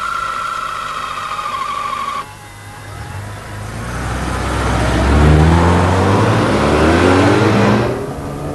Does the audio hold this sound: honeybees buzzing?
no